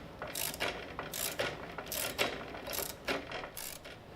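A ratchet wrench tightens a nut during assembly of a Reeder Products 2x72 belt grinder, producing close, repeated ratcheting clicks in a steady back-and-forth rhythm of about eight strokes.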